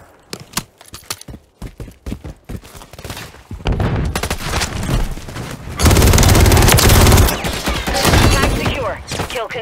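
Call of Duty MW3 gunfire: sparse, sharp individual shots at first, then dense rapid automatic bursts building into a loud, continuous barrage near the end.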